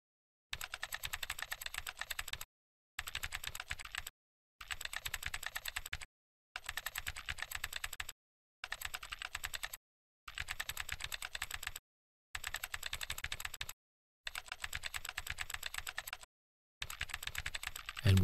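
Rapid clicking of keys on a computer keyboard in repeated bursts of a couple of seconds each, separated by short pauses, close and clear with no talking.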